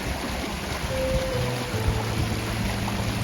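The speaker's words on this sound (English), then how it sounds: "So now we're looking at the little waterfall that I photographed from across the creek." Small waterfall near the Castner Glacier cave in Alaska, a steady broadband rush of falling water running continuously and fairly close, with a faint low hum in the background and no talking.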